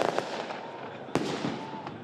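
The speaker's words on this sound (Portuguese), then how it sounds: "os manifestantes soltaram fogos de artifício." Fireworks set off by protesters outside a Federal Police building as the J&F informants arrive for arrest: sharp, loud bangs over a constant crowd rumble, with one strong blast about halfway through.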